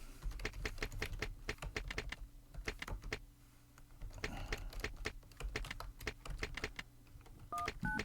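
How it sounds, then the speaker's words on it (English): Numbers typed on a computer keyboard while playing the old Carmen Sandiego computer game, with rapid close clicks in quick bursts separated by brief pauses and a short electronic beep near the end. "It will accept numbers if I type them on the keyboard."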